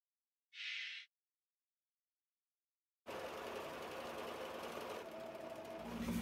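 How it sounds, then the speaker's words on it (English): A sewing machine runs steadily while stitching a seam on a circle skirt, a continuous close mechanical whir after a brief short tone and a few seconds of silence. "And then I will sew up my seam."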